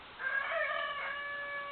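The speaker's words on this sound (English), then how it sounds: "That one sounds better. That's the neighbor's rooster." A rooster crows once, a rough drawn-out call with a rising then falling tone, fairly close and clear against quiet surroundings, at a host family house in Stauceni.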